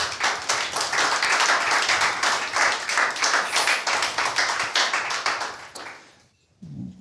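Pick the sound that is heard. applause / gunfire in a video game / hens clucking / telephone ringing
applause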